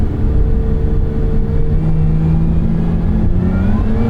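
Lotus Emira sports car accelerating in sport mode with sluggish downshifts, a steady loud mid-pitched engine drone rising slightly in tone over about four seconds, heard from inside the cabin with no talking.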